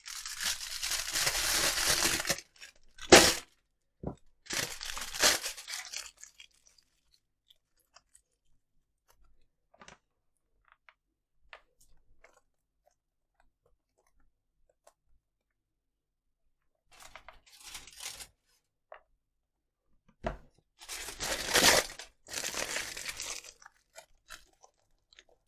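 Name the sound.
crumpling aluminium foil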